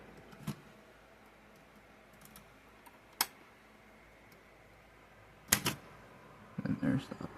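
Keys on a mechanical analog typewriter are struck in a few isolated, sharp clacks spaced seconds apart, followed by a quicker burst of mechanical clatter near the end, close and clear over a quiet room.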